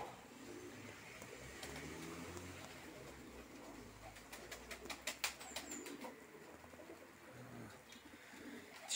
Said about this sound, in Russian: Вот сейчас начали они ворковать потихоньку, в чувствах проходить.